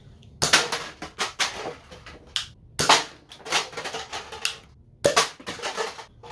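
Shots from a Radioactive Designs foam dart blaster fire in sharp, snappy bursts, several close pops in quick succession with brief gaps between three separate volleys, loud and near with no talking.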